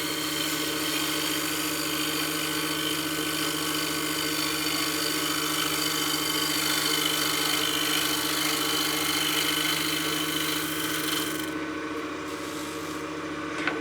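Wood turning on a lathe while shaping a utility box: a steady motor hum with a continuous scraping tool on the spinning wood, even and sustained, easing off near the end.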